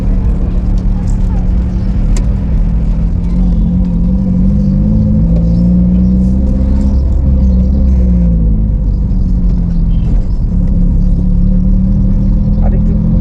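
Manual-transmission car driving on town roads during a practical driving test, a steady low engine rumble and road drone with slight shifts in pitch, continuous and close, with people talking over it.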